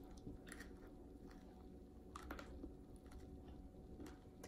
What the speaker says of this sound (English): The crunch of the sprinkles.